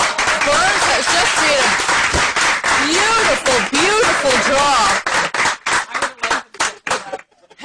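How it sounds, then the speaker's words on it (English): Steady applause from spectators in the warm room of a curling club during a bonspiel, a dense patter of many hands that thins into scattered separate claps near the end, with a commentator talking over it. "Hence all the clapping here in the warm room."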